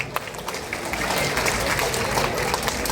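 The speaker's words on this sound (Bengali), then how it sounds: "সকলে একসাথে একটা জোরে করতালি হোক" Audience clapping together at a Rabindra-Nazrul cultural evening in Halishahar, a dense, steady burst of applause from a crowd, close and sustained for a few seconds.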